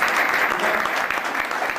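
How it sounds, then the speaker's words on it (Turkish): An audience at a year-end party in a Stuttgart community hall claps loudly and continuously, a dense burst of applause filling the room with no voices over it. "Ona da buradan büyük bir alkış istiyoruz arkadaşlar."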